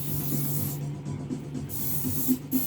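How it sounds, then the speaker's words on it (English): An aerosol spray hisses onto Dr. Martens leather boots in close, sustained bursts with short pauses between them, alongside a faint steady hum. "So let's just give these a good spray."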